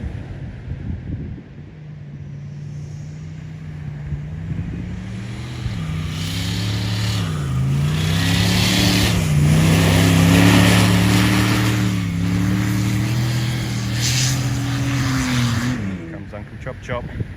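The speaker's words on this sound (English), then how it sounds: "let's see this boosted up turbo patrol come down here" Turbocharged Nissan Patrol Y62 four-wheel drive engine labouring as it drives down sand at Beachport, a steady loud drone rising and falling in pitch for the whole stretch, with wind buffeting and voices talking over it.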